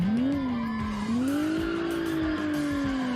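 A car in BeamNG brakes hard and skids, sending out one long, loud tire squeal that wavers in pitch and carries on steadily for about three seconds, with no talk over it.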